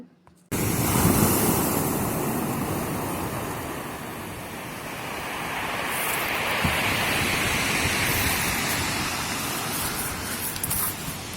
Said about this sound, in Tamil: கடல் அலையை தவிர பீச்சில் ஒரே மயான அமைதியாக இருந்துச்சு யாருமே இல்லை அங்கே